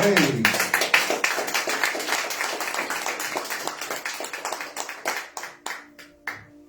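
A church congregation claps for the King after a sermon on sin and redemption, dense and fairly close at first, then thinning into scattered claps that fade out over several seconds.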